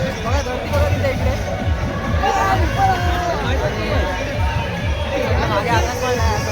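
Dense crowd chatter and babble fill a busy fair around a break dance ride at the Mahad Chhabina festival, steady and close, with voices of nearby people talking over it.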